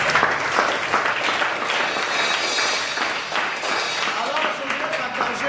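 A congregation at a Sunday church service claps and applauds in a loud, even wash of hand claps, with voices from the crowd mixed in beneath.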